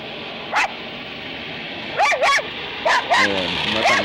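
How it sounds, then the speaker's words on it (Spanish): A small dog barks near a prison, giving about half a dozen short, sharp yaps spaced irregularly and fairly close, over a steady background hum. "Ahí vemos un perrito ladrando"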